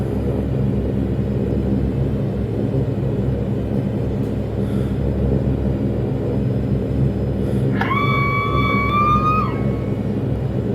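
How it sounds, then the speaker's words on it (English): A hydraulic pump in a Saab 340 turboprop flight simulator gives a short rising whine that holds steady for about a second and a half near the end, over a loud, continuous engine drone and cockpit rumble. "Again, there's that hydraulic sound."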